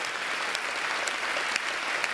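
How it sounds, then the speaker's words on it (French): An audience at a graduation ceremony claps steadily and densely throughout, a sustained wash of applause with no voices over it. "on peut vous applaudir très, très, très, très, très, très fort"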